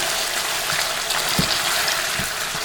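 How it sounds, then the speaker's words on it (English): Water is poured slowly into the gravy of a Haitian smoked turkey stew, giving a continuous close liquid pouring and trickling wash with a few soft splashes and no talk. "Again, slowly I'm adding that gravy."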